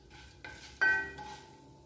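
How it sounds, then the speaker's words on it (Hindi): Chana dal and urad dal roasting slowly over a low gas flame, with a soft, quiet sizzle and a few light spatula knocks against the pan. "अब बिल्कुल स्लो गैस पर इसको गोल्डन होने तक भुनने देंगे।"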